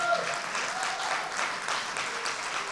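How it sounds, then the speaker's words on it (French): Audience applause for the nominees at the 2022 Prix Pierre-Ayot and Prix Louis-Comtois ceremony, a steady, dense clapping from a crowd that holds evenly throughout with no voices. "une grosse main d'applaudissements à tous les nommés"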